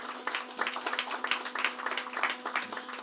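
An audience gives a round of applause for the CEO of the Nigerian Exchange at a business event, with moderate, rippling clapping over a steady low background hum.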